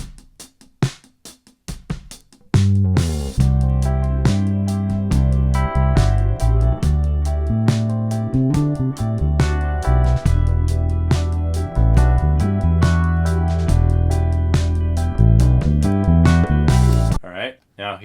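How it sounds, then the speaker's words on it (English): A clean DI bass guitar plays in a full band mix, with punchy, rhythmic low notes under drums and other instruments for about eighteen seconds. "Let's listen to the clean DI in a mix, see how it sounds."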